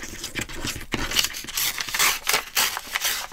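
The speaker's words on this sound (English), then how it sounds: "And we're going to take this and tear that edge." A book page with German writing is torn along its edge, a close, continuous ripping and crinkling of paper lasting a few seconds with small bursts and no voices.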